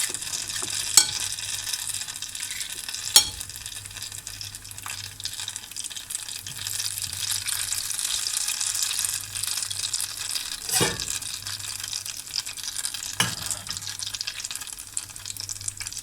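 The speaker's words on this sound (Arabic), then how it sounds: "والزيت طبعا اكيد حيكون غزير زي ما انتم شايفين، يعني مغمور حبات الفلافل مغمورة بالزيت." Falafel balls deep-fry submerged in plenty of hot oil, a steady bubbling sizzle with occasional clinks of a utensil against the pan.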